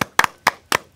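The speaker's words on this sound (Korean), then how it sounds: "일단 박수" Hands clap three times in a quick, close, loud burst, each clap crisp and separate with short silences between.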